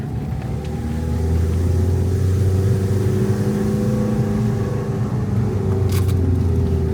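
A diesel vehicle engine revs with a loud, steady, close droning rumble that rises and then holds near one level throughout.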